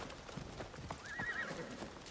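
Steady hoof clip-clops from a horse trotting in Assassin's Creed Shadows, with a short whinny rising in the middle, over a soft ambient background.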